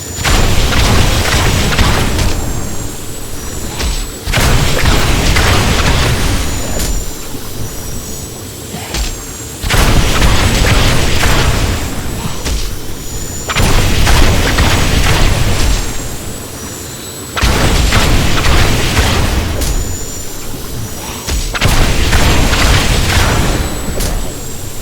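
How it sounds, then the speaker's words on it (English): In Diablo 3, Wand of Woh explosions erupt in repeated loud booming bursts, each followed by a rumbling fade, coming in a regular cycle of roughly five-second waves over continuous game noise. "if the first explosion does a lot of damage, but then the subsequent explosions do very little"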